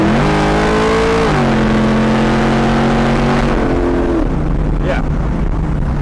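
An LS-swapped 1981 Pontiac Trans Am with chambered exhaust revs loudly up close, its deep engine note stepping up in pitch, holding, then dropping back to a rumbling idle.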